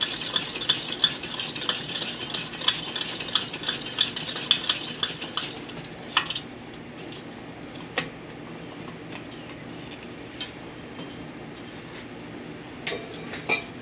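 Rapid, even clicking and rattling from the hand pump of a military pressure lantern, close and moderately loud for about six seconds, then quieter scattered taps and knocks.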